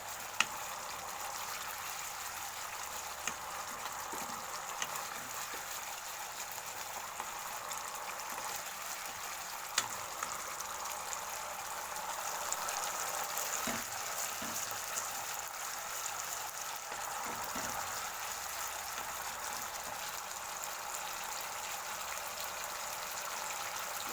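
Water poured into a pan of katla fish curry with poppy seed paste and fried spices, a steady sizzling, hissing wash with soft trickling that runs continuously and evenly, close by with no voices.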